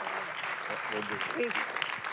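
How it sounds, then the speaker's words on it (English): Audience applause at an author talk, a moderate, continuous patter of clapping from a room of listeners, with a few voices talking through it. "let's give them a round of applause"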